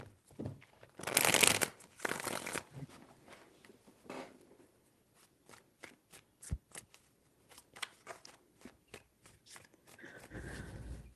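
Tarot cards being shuffled close by in a few quick riffling bursts, followed by scattered soft taps and card handling.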